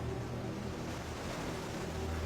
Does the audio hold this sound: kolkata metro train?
no